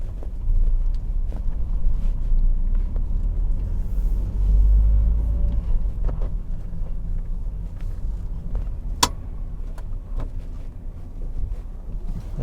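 A 2022 Mercedes Citan van with a manual six-speed gearbox drives along, its low engine drone and road rumble steady throughout, with a brief sharp knock partway through and no talk.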